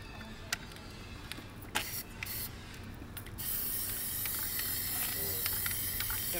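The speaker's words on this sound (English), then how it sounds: "Gotta remember to spray around the edges of the rim and tire." A Plasti Dip spray can coating a car wheel rim, a few clicks and short bursts first, then a loud continuous aerosol hiss that carries steadily to the end.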